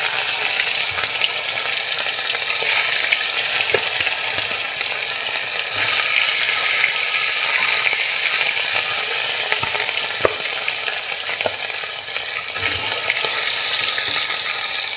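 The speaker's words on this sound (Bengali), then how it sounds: "এবার এর মধ্যে আমি মাছটা দিয়ে ভেজে নেব।" Rohu fish fries in hot white oil in a pan, giving a loud, continuous close-up sizzle with scattered pops and crackles throughout.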